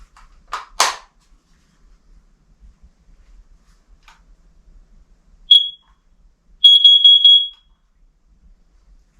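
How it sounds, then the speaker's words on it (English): A carbon monoxide detector in an off-grid cabin gives a short high-pitched chirp, then a longer shrill beep about a second later, both loud and clear in an otherwise quiet room. "We're going to go ahead and put those in our carbon monoxide detector."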